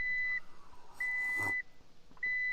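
A truck's reversing alarm sounds three loud, steady beeps at an even pace, with quiet gaps between them and faint background noise.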